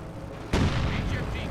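Heavy howitzer firing in Company of Heroes 2, a World War II strategy game match between Soviets and Wehrmacht: one sudden loud boom after a quiet stretch, then a long rumbling decay with scattered softer crackles, under low speech.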